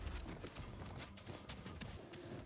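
Horse mount in the Paladins online shooter game, its hooves clip-clopping in a quick, even gallop rhythm at moderate, fairly close volume, with no voice heard.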